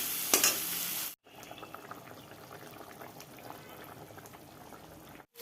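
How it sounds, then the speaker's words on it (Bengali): A spice mix of cumin and chilli with tomato and potato sautés in a pan, giving a continuous crackling sizzle that briefly cuts out twice. "এই যে মশলাটাকে কষিয়ে নিচ্ছি ভালো করে, টমেটো আর আলু, জিরে লঙ্কা"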